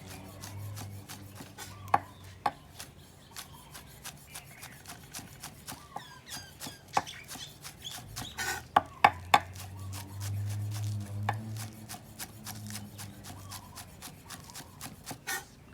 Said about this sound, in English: And I always have green onions in the house. So you want to slice them fine.